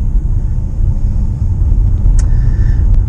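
A Mitsubishi Outlander PHEV with reduced battery health is driven on the road, producing a loud, steady low cabin rumble of tyres and drivetrain with no voices.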